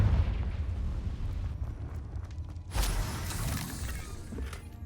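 In the video game Hogwarts Legacy, the Confringo spell is cast with a crackling, rumbling blast that swells into a loud, shattering explosive impact midway through, followed by a fading, gritty rumble.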